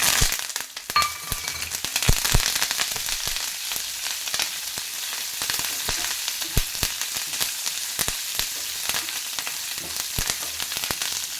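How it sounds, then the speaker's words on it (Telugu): Curry leaves fry in hot oil in a pan with a loud, dense, steady crackle and sizzle, sharp pops scattered throughout. "కరివేపాకు అయితే బాగా ఫ్రై కావాలి"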